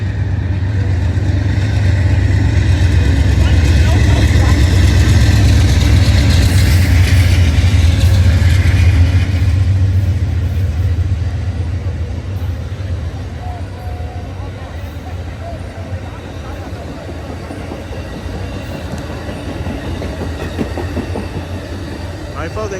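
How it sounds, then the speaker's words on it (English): An Amtrak Coast Starlight passenger train led by a P42 locomotive passes the Oakland Coliseum station, a loud, steady rumble and rattle of rolling cars that holds for about ten seconds, then eases to a lower, continuing roll. "The Coast Starlight is on the right track right now, in the middle track."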